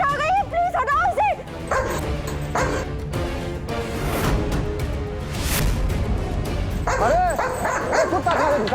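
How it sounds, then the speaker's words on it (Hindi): A dog barks, yips and whimpers in sharp repeated bursts, close and loud, while people talk over and around it indoors. "किसका डॉग है ये? प्लीज हटाओ इसे।"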